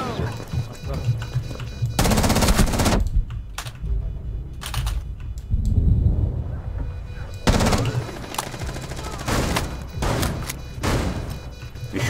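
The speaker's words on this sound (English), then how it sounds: "Shooting from above, be careful." Gunfire in the Rainbow Six Siege video game on the Consulate map, with loud sustained bursts of automatic fire and single shots around 2–3 s and again from 7.5 s to the end, separated by quieter gaps.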